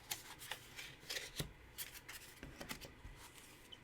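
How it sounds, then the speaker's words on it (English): Cards for a solo tabletop adventure game are shuffled by hand in quick papery riffles and taps, soft and close in a quiet room. "So we're going to draw and shuffle."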